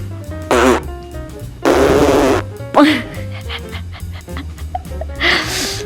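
A person blows fart noises with their mouth to make an animal look at the camera. Several short, loud blasts come in bursts and pauses, with a few quieter rasps between them. The voice imitates a fart.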